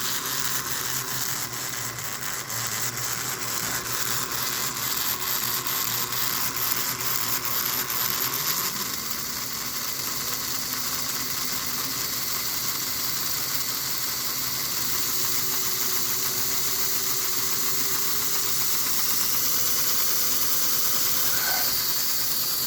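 A small model two-stroke engine on a model train idles steadily with a hissing, puffing exhaust and constant buzzing drone, loud and close, without any speech.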